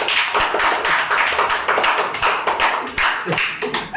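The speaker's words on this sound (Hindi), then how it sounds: "ताली बजाओ इनके" A classroom of students claps in a short, uneven burst of close hand claps with distinct individual slaps over about four seconds.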